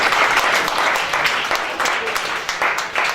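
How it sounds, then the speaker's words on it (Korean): An audience applauds an orchestra at a school lecture hall, a dense steady wash of clapping throughout, fairly loud and close. "다시 한번 박수 한번 드리겠습니다"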